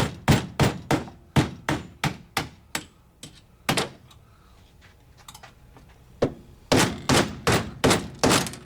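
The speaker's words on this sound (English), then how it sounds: "See, I actually own a hammer." Sharp hammer blows pound on a boat's outboard mount and transom, ringing out in rapid bursts of about ten strikes, then a pause with scattered hits, then another fast run of blows.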